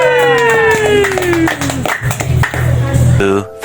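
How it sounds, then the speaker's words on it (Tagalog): Applause breaks out at a Christmas party for a security guard detachment, mixed with a crowd's clapping and voices over a loud, busy room with musical tones. "Palakpak naman."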